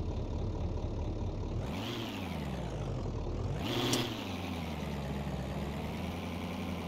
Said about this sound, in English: got a little bit of a high idle